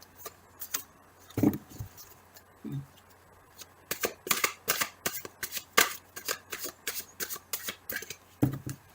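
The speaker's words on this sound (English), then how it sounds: "Let me just shuffle for the additional message." Tarot cards are shuffled close by in a quick run of crisp riffling flutters, starting sparse and becoming a steady rhythmic series of snaps.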